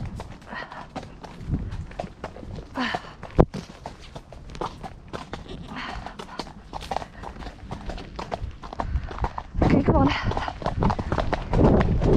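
Horse hooves clip-clopping at a walk into a canter, steady rhythmic footfalls close by, with a rider's voice talking over them and wind-like rustle throughout.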